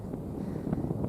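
Wind blowing outdoors on an overcast village day, a steady low buffeting rush close to the microphone, without talk.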